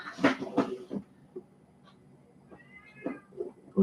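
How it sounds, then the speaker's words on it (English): Several cats meowing insistently at close range, a series of short, varied meows and cries spread across a few seconds with quiet gaps between them. "the cats are freaking out"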